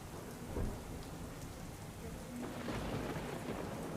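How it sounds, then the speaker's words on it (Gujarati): Heavy rain pours steadily in Ahmedabad during a storm with strong wind, with low rumbles of thunder rolling beneath the constant hiss of the downpour. "વીજળીના કડાકા ભડાકા સાથે વરસાદી માહોલ જોવા મળી રહ્યો છે"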